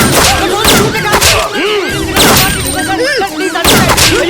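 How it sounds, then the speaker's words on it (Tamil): Gunshots in a horror thriller film scene: several loud, sharp bursts at irregular intervals, set against a dense, shrill wash of wailing, tonal sound. "சீக்கிரம் சுடுங்க சார்"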